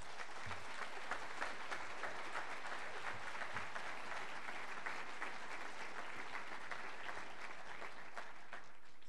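An audience at a health care town hall meeting applauds to welcome Senator Ben Cardin, with dense, steady clapping that carries on unbroken for the whole stretch.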